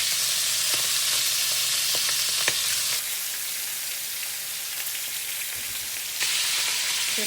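Fatty side of a piece of meat frying in a pan, a steady close broadband sizzle with a few sharp pops and crackles, dipping briefly in intensity midway before surging again.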